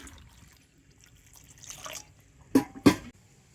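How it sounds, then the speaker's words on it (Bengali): Water trickles onto ripe jackfruit pulp in a kitchen bowl, a quiet splashy pour building briefly and then two short, sharper splashes near the end. "কোয়ার মধ্যে দিয়ে দেব জল"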